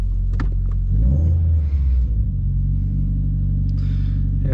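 A tuned, modified Subaru WRX engine rumbles steadily from inside the car while driving, a low continuous drone with a slight swell in revs early on.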